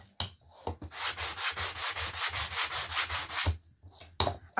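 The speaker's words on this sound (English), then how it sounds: "One of my kids cringes every time he hears this sanding sound" Painted wooden ends of a Dollar Tree sleigh are sanded by hand in about a dozen rhythmic, close scratchy strokes, regular and evenly paced, with a few knocks at the start and end.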